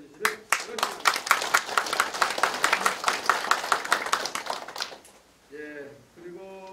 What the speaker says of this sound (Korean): 여러분들이 한번 크게 박수를 한번 보내주시면